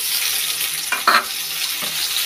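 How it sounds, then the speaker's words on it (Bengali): Carrots tipped into onions already frying in a pan, a steady hiss of sizzling oil running throughout with a couple of short louder bursts of stirring and food hitting the hot fat. "পেঁয়াজটা একটু ভাজা হয়ে গেছে, এখন দিয়ে দিচ্ছি গাজর"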